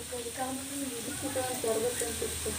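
Puris frying in oil, a soft, steady sizzle heard under people talking nearby.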